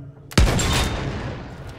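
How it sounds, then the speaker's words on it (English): A single heavy cannon shot from a boat in the Battlefield 1 video game booms loud and close, its blast rolling out into a long, noisy decay. "I love shooting my cannon."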